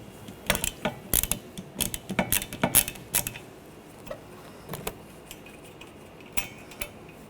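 A ratchet with a 15mm socket backs off the wiper arm nut on a 2013-2019 Ford Escape, giving rapid bursts of metallic clicks in uneven runs, close and crisp, then tapering to a few scattered clicks.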